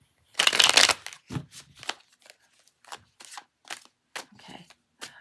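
Tarot cards are riffled in a burst, then a series of shorter flicks and soft slaps follow in uneven rhythm, close and crisp.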